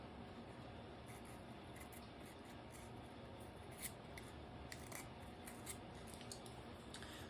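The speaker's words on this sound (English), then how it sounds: "chiseling away at the wood of the pencil and revealing that beautiful piece of lead" A pencil being sharpened with a blade, chiseling the wood away from the lead. It gives a faint, steady run of soft scraping and shaving strokes with small clicks, and no voice is heard.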